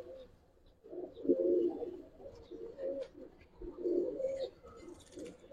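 Giribaz pigeons coo close by in repeated low, throaty phrases, several bursts rising and falling, with faint background noises between calls.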